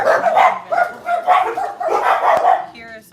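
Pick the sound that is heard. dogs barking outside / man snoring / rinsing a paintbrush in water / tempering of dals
dogs barking outside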